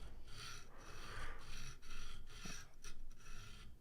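A knife tip is sharpened on a KME sharpening stone, with rhythmic rasping strokes of stone on steel, about seven close, soft passes in a row, and no talk.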